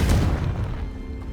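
Confligo explosive spell cast in the game Hogwarts Legacy: a heavy, low boom that hits hard at the start and rolls off into a fading rumble.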